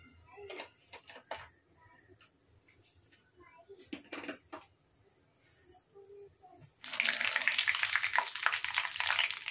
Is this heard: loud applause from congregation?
no